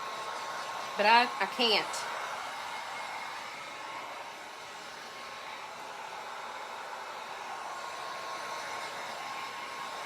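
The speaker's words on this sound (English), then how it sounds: "this is that heat gun that you really don't need" A heat gun blows hot air to dry paint on an old mirror being turned into a magnetic chalkboard, giving a steady, continuous whooshing roar. A brief spoken phrase comes early, and the blowing then runs on alone.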